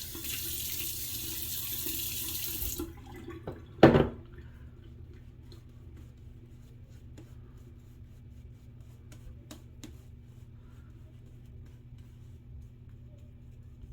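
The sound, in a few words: running water from tap, wetting face for shaving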